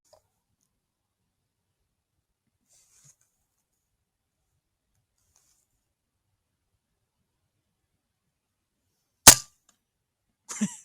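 Air rifle pest-control shots outdoors: after long near-silence, one sharp, loud crack rings out, followed about a second later by a shorter burst of quick impact-like snaps.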